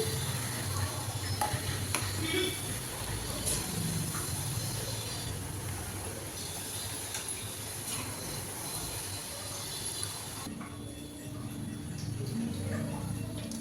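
Bread pakoda fries until crispy in hot oil in a pan, giving a steady, close sizzle and crackle. The frying continues without a break and softens slightly near the end.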